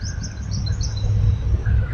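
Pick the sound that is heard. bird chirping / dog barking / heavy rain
bird chirping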